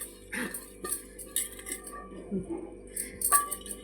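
Dishes and cutlery clink softly in a kitchen as rice is served onto a plate with lemon and green chilli, several light scattered clinks over a low background hum, with brief voice-like sounds between.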